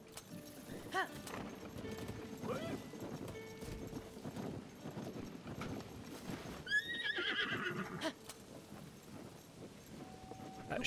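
In Zelda: Tears of the Kingdom, horse whinnies ring out over steady clip-clopping hooves, with a busy game soundscape underneath and brief clanks, fairly close and moderately loud.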